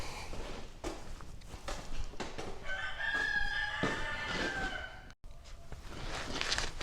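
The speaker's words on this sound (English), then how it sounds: "that means Rooster's going to crow at us a bit" A rooster crows loudly in one long call amid scattered clatter and footstep-like knocks, with no one talking.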